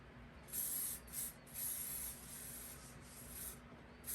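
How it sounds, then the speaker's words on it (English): Hairspray is spritzed onto the fur trim of a plush gnome's hat in several short bursts, a close hissing spray with brief pauses between puffs. "I put some of the hairspray on the fur trim around the hat"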